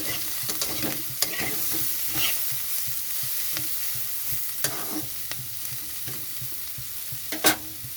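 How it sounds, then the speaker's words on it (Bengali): Capsicum, potato and onion fry in very little oil, giving a moderate sizzle. A spatula scrapes and stirs the pan repeatedly, with a sharper knock near the end. "ভাজাটা কিন্তু খুবই কম তেলে ভাজাটা হয়ে যায় এরকমভাবে ভাজাটা ভাজতে হবে"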